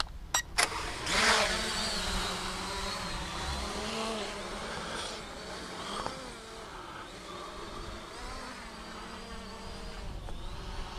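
An M66 WiFi drone lifts off and hovers in the wind, a steady insect-like buzz of small propellers under gusty wind rumble, with a few sharp clicks at the start.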